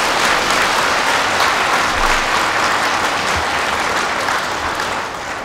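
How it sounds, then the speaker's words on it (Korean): A crowd at a character-education lecture gives birthday-celebration applause: loud, dense, sustained clapping from many hands that holds steady and eases slightly at the end, with no talking. "우리가 그 상대한테 박수를 보내는 것은 힘을 주는 거예요."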